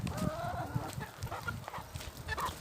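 Chickens cluck repeatedly in a busy, close chorus, with short calls overlapping one another and a steady farmyard murmur underneath.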